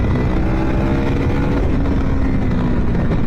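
A KTM Duke 250 Gen3 motorcycle engine runs loud and close, holding a steady, throbbing drone throughout with no other sounds.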